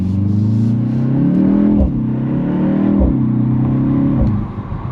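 A 2025 BMW X2 M35i heard from inside while driving, with a steady mid-pitched engine drone that rises and falls as the car accelerates, loud and continuous with no talking.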